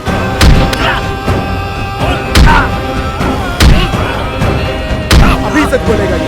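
Heavy thumps and thuds of a man being beaten in a South Indian horror film fight scene, five or six loud punchy hits spaced about a second apart over a dense soundtrack.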